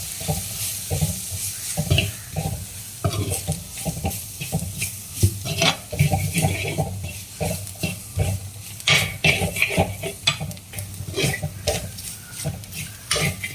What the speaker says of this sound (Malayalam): ഈ മസാലപ്പൊടികളുടെ എല്ലാം പച്ചമണം മാറുന്നവരെ ഇളക്കി കൊടുക്കാം